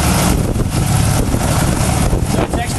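A Jabiru aircraft engine runs on test, a loud, steady broadband roar with wind buffeting filling the whole stretch without a break.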